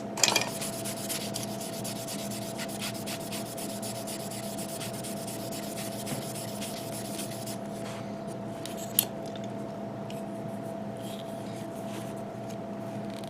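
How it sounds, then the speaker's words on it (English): A plastic 1/60 Gundam-style model kit part being sanded by hand, a soft steady rubbing and scratching close by, with a faint constant hum underneath and a brief knock near the end. "But I will sand it down a little bit more."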